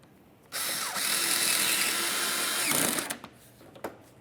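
A power tool whirs for about two and a half seconds as it drives a mounting screw into a 2006-2011 Honda Civic front bumper near the fender, a steady high whine that stops abruptly, followed by a few faint clicks and taps.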